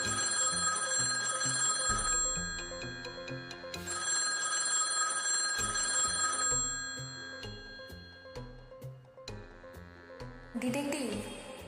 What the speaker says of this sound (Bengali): থানার ফোনটা হঠাৎ বেজে উঠল।